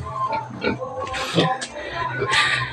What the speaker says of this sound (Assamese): এইজনী মাক গাহৰিজনী